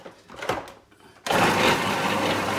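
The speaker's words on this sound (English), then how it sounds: "we go in here, we put everything in our food processor." A food processor whizzing meatball ingredients switches on partway through with a loud, dense whirring roar that holds steady, after a quieter stretch of kitchen handling noises.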